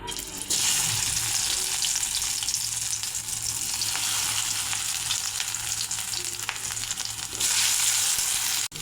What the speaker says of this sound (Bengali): এবার পটলগুলো দিয়ে দেব